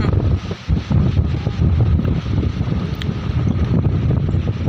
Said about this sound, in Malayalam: നമുക്ക് വീഡിയോയിൽ കേട്ടാൽ തന്നെ നമുക്ക് നിങ്ങൾക്ക് അറിയാൻ പറ്റും ഭയങ്കര കാറ്റാണ് ഇവിടെ ഇപ്പോൾ